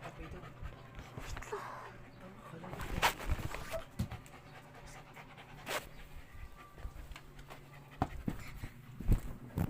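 A dog pants at close range in a quiet indoor room, a fairly soft rapid breathing that carries on through the stretch, with a few brief knocks and thumps nearby.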